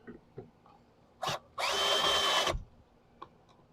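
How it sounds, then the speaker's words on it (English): A cordless power drill driving screws into the hard plastic housing of a Ryobi 2000 PSI electric pressure washer: one short burst, then a longer steady whirring run of about a second, with faint handling clicks around it and no talk. "I'll get my screwdriver and my drill."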